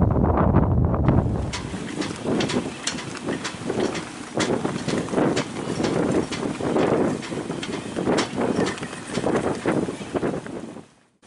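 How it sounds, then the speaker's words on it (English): Strong wind roars across a microphone aboard a sailboat on open water, a steady loud rush with gusty surges and rattling, close and continuous, with no talking. "now the wind was really cooking"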